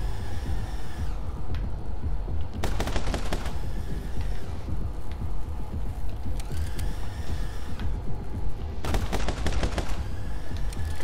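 Pistol gunfire in the My Friend Pedro video game comes in rapid clustered bursts of sharp shots, recurring every few seconds over a steady, busy game soundscape with mechanical clicks.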